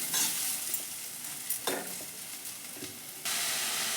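Carrot sweet with ghee, khoya and jaggery is stirred in a pan, a soft continuous sizzle with a few scraping strokes of the spoon, fairly quiet and without talk.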